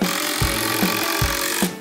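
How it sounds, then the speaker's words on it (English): Power saw cutting through 2x10 wooden boards, a loud steady buzzing whine broken by several short rhythmic dips as the blade passes through the lumber, with no talking. "We're gonna cut down some 2x10s for the structure of our braces."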